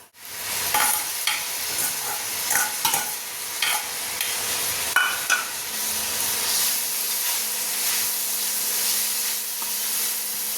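Golma fish being stirred into chutney that has been sautéed in hot oil, giving a steady close sizzle with scraping stir strokes throughout and no talking.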